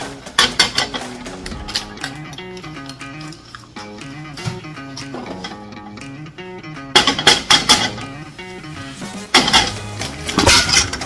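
Metal utensils scrape and clink against a non-stick pan while an egg sandwich is made, with loud rapid clattering bursts at the start and end and steadier ringing contact in between.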